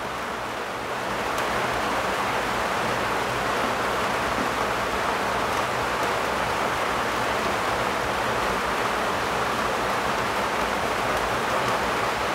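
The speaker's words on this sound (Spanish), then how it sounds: "está lloviendo súper fuerte, así que espero que se escuche bien" Heavy rain pours steadily and loudly outdoors, a dense, even hiss that holds at constant level throughout with no voices.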